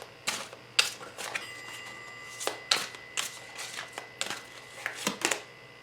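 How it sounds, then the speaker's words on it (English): Oversized tarot cards are shuffled by hand in a quiet room: a string of crisp riffling bursts and sharp slaps comes at an uneven rhythm, moderately close, with no talking. "These cards are very big. They're very difficult for me to shuffle."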